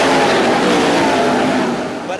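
Race cars accelerate hard on a restart, a loud, dense roar of engines building together close by, with an announcer talking over the noise throughout.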